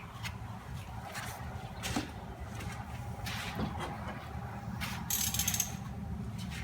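A 1/2 inch wrench works on a 1978 John Deere 312, giving soft ratcheting clicks and metallic clinks close by, irregular and fairly quiet, with a brighter clink near the end.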